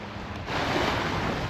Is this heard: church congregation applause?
no